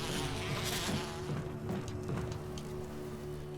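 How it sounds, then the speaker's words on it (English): A swarm of bees buzzes steadily and loudly in Resident Evil HD Remaster, a thick droning hum filling the whole stretch without pause. "Ah, bees!"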